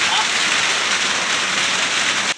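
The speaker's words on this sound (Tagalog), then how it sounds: "Titig ulan." Heavy rain pours down as loud, dense, steady hiss and patter close by, cutting off abruptly at the very end.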